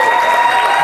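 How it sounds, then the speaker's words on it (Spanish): Festival audience at the Mono Núñez festival applauding, a dense steady wash of clapping hands with faint crowd noise, continuous throughout the short moment. "un aplauso para Boyacá, que trae una delegación"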